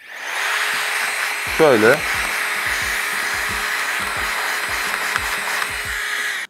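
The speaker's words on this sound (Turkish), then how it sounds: "Şimdi makineyi üfleyeceğim." A Nitecore BlowerBaby electric air blower rushes steadily up close while cleaning a camera, with one brief rising and falling whine near the start. Someone speaks a single short word over it.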